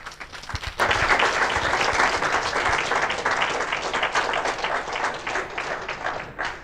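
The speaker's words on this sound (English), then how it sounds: "So a big round of applause for Mr." Audience applause for a Czech government economic official at a formal event, bursting in after a brief pause and holding as dense, steady clapping from a large crowd, easing slightly at the end.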